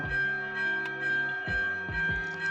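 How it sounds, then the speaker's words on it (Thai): A church bell in Agerola, Italy, rings with deep, resonant tones, several strikes overlapping as the hum lingers and blooms between them. "ระฆังมายาวเลยค่ะ"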